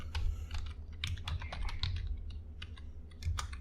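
Quiet, steady keyboard typing as an npx create-react-app command is entered on a computer, a close run of soft clicks over low background hum.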